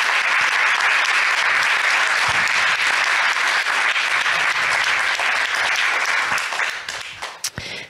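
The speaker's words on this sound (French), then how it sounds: "Je vous demande d'applaudir Maud Gatel, notre secrétaire générale" Audience applause at a conference held in support of the Iranian people: dense, steady clapping from a seated crowd fills the room for about seven seconds, then fades out at the end.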